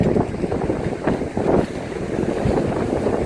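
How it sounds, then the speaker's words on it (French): Strong wind gusts buffet the microphone on a seaside jetty at San Esteban, a continuous roaring rumble with swelling bursts and no voices. "Oh, ce vent que l'on a."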